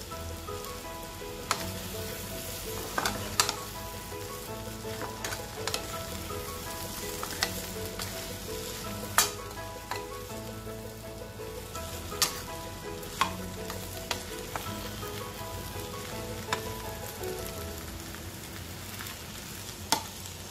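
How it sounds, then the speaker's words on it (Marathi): Spiced potato filling for Nashik-style batata vada, mixed with besan and roasted fennel, fries in a pan with a constant sizzle, while a spoon scrapes and taps the pan in irregular clicks throughout. "छान हलवून घेऊ भाजी"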